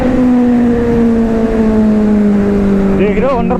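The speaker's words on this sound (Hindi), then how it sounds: "देख रहे हो अंडरपास में क्या गुंजार दी है बाइक।" A superbike engine roars loud and steady inside an underpass, its tone echoing and gradually dropping, then rising in a couple of quick revs near the end.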